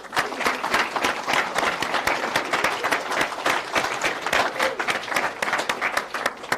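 Guests at a wedding ceremony clap for the musicians who played, a lively, even round of applause from a nearby crowd with sharp individual claps throughout.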